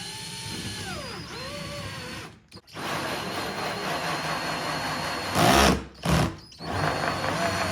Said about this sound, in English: now we can come in with a 2 1/8 inch diameter hole saw